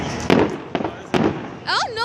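Fireworks exploding at a beach, with several sharp booming bursts at uneven intervals followed by crackling, whistling rockets near the end, amid the chatter of people close by.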